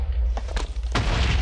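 Explosions go off in modded Minecraft, several booming bursts in quick succession over a deep rumbling low end, loud and close.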